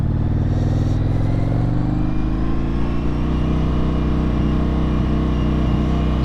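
An Indian FTR 1200 motorcycle engine drones steadily while riding, a loud, close, continuous roar with a slowly rising pitch and wind noise over it.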